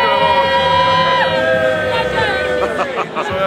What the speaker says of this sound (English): there's a lot of crowd here, look at them all